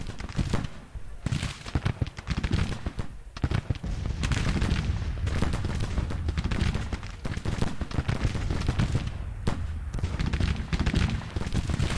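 Musket volleys and cannon booms from the Civil War strategy game Grand Tactician: The Civil War crackle and rumble in dense, overlapping bursts, sustained and fairly loud throughout with no talking.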